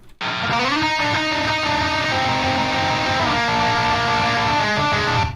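A thick, sustained electric guitar chord progression with a micro shift effect giving a wide, shimmering doubled tone, played loud and continuous without any talking.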